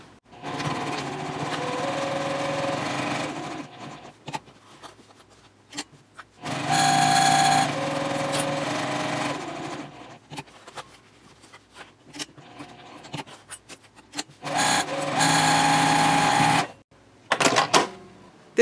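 Sewing machine stitching a bag seam at a 2.5 stitch length, running in three steady bursts of a few seconds each with quiet pauses and small handling clicks between them.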